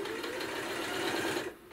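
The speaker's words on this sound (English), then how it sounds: "I'm going to chain piece, and I'll do the sewing on this first" A sewing machine chain piecing quilt pieces runs in a steady, fast mechanical whir close by, fading out at the end.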